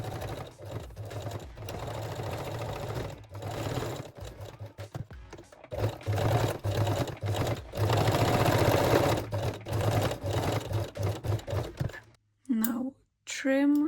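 A home sewing machine whirs in bursts while stitching forward, backward and forward again on a garter belt, short loud runs separated by brief pauses, with a little talk near the end.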